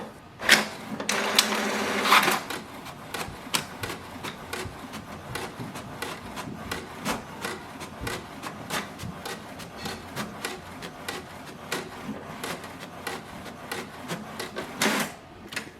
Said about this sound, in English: Let's print the page and we'll see the welcome page.